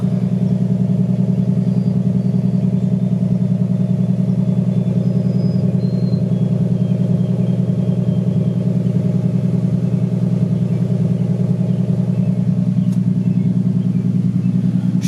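A cammed 2008 Ford Mustang 4.0 V6 idles with a deep, steady exhaust rumble and a slightly loping pulse, loud and close, running alone without talk.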